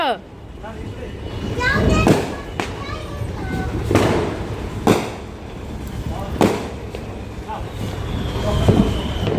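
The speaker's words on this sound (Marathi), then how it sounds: "मिस्टर फटाके वाजवणार आहे का फटाके डायरेक्ट" Several sharp firecracker bangs at a Diwali Lakshmi Puja celebration burst at irregular intervals, loud and close, with people talking and calling out throughout.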